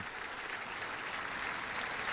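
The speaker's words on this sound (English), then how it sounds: "let their emotions be known as they applaud for Cohen." Distant, hushed applause from a stadium crowd at a 2005 college football game between Western Carolina and Georgia Southern, with fans clapping for an injured player on the field.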